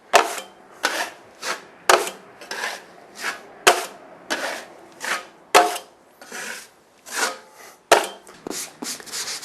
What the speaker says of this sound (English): So I just finished sanding